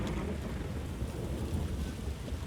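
Steady downpour hisses over a low rumble of thunder in The Witcher 3, a dense, continuous wash of rain with no speech.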